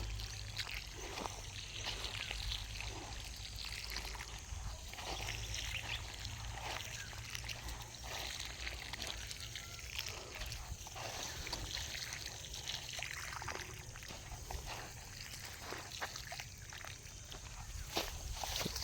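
Water poured onto newly planted bitter gourd (ampalaya) plants in hot weather, a continuous trickling splash running steadily throughout, close and moderately quiet, with faint voices in the background.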